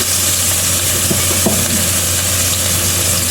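Garlic sizzles in oil in a wok, a loud, steady frying hiss with a few faint stirring knocks and no talking.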